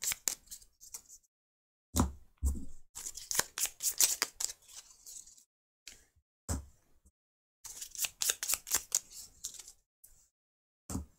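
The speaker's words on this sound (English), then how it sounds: "Shuffle each deck separately." Decks of cards for the board game Sabika being shuffled, close and fairly quiet, in several bursts of rapid riffling and flicking separated by short pauses, with no talk.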